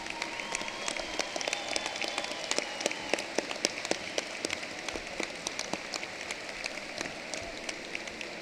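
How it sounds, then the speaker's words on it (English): Crowd at a high school commencement applauds military members, a long spread of scattered, crisp individual claps rippling unevenly through a large space, moderately distant with no talking. "Audience, let's please recognize these individuals with a round of applause"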